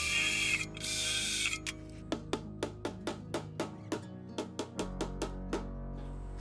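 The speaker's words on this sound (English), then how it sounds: "I'm just putting 2 rivets in everything at the moment" A hand riveting tool sets rivets into a powder-coated seat base with a quick run of about a dozen sharp mechanical clicks, evenly spaced and close up, after a brief louder mechanical rush at the start.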